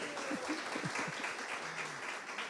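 Applause from a church congregation during a celebration service, a moderate patter of clapping hands somewhat in the background, with a faint voice briefly underneath.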